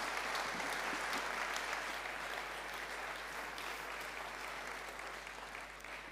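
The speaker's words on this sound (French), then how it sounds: "Merci, on applaudit." Audience applause at an energy transition awards ceremony, a dense, sustained round of clapping from a seated crowd that stays steady and then slowly tapers.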